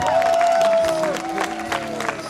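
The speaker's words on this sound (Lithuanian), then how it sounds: "Audringi plojimai" Audience applause at a sports association event in Palanga, Lithuania: a dense crowd clapping with some cheering, moderately loud, mixed with a sustained tone and background murmur.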